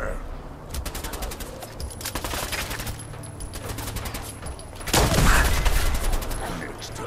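Rapid bursts of automatic gunfire crackle through a Fallout 4 firefight, sharp repeated shots forming a dense fusillade that swells into a heavier, louder volley near the end, with a voice speaking briefly amid the shooting.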